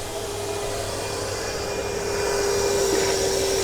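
A Nilfisk ATTIX 751 wet vacuum cleaner runs in automatic pump-out mode, pushing water out through a long hose with a continuous, even motor whine and airy rush that holds steady throughout.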